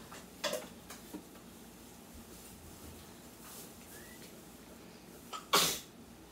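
A child sneezes once, sharp and close, near the end of a quiet indoor stretch, preceded by a few faint clicks and soft rustles.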